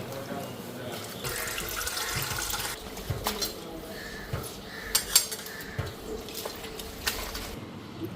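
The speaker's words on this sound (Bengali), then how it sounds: "শাকটা কাটি নাই, ধুয়া নিই ভালো করে" Leafy greens being washed under a running tap in a home kitchen, a soft stream of water with intermittent clinks and knocks of a metal pot or utensils, a voice speaking now and then.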